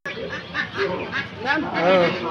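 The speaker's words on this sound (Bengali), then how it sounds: "রাজহাঁসগুলো ডুকডুক করে ডাকছে, যেন নিজের দাম নিজেই বলে দিচ্ছে।" Geese at a poultry market give a run of honking, nasal calls, several overlapping bursts close by and fairly loud, one after another without pause.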